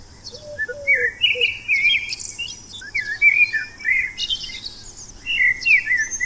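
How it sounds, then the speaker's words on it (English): A bird sings in bright, repeated chirping phrases, loud and close, over a faint background hum of insects. "they saw a beautiful snow-white bird sitting on a bough, singing delightfully"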